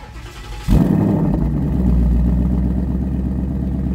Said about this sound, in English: In order to remote start it, all we're gonna do is press the lock button once and this button twice.